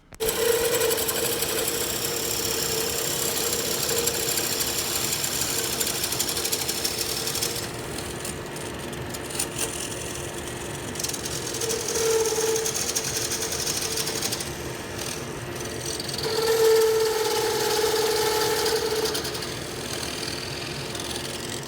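A saw cuts a wide piece of wood in half in a woodturning workshop: a steady, loud motor drone runs throughout, with the cutting noise swelling and easing in a few places. No one speaks.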